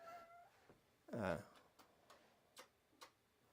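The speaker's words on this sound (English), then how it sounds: "that's our Cat. obnoxious monster." A pet cat gives a single short meow in a quiet room, fairly close and moderately loud, followed by a few faint ticks and clicks.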